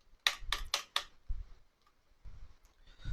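Several sharp key clicks in a quick burst of four, then sparser softer taps with low thumps, like someone typing network configuration commands on a computer keyboard at a steady moderate level.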